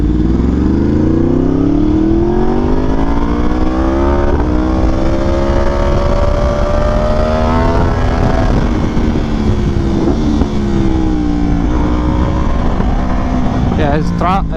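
A Yamaha R1M sportbike rides along a road, engine droning loud and close with rising and falling revs as the throttle shifts, continuous from start to finish.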